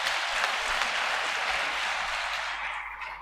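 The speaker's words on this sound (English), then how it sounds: "let's give them a round of applause" Sustained applause from a large audience at a military commissioning and pipping ceremony for new army officers, a dense even clatter of clapping that slowly tapers off.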